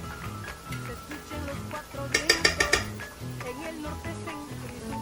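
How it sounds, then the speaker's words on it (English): Garlic paste sizzles in olive oil as a wooden spoon stirs it around the pan, a steady frying hiss under background music with a short burst of rapid knocks against the pan midway. "Then you're going to take your wooden spoon and mix it all around in there."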